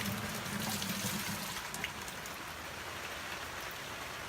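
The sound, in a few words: pouring fermented tomato seeds and pulp into a bucket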